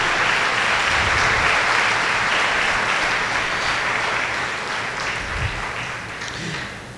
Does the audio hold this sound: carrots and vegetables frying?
no